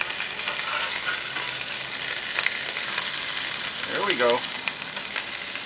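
Hamburgers frying on a Deadwood wood stove outdoors give a steady broadband sizzle throughout, with a brief clatter as patties are turned and someone speaking once near the end.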